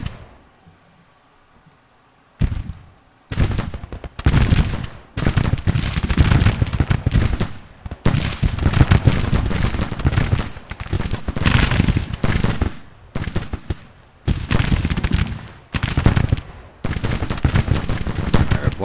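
Sustained rifle volleys in Grand Tactician: The Civil War at Winchester, crackling bursts of many muskets firing together in waves, loud and dense with brief lulls between volleys.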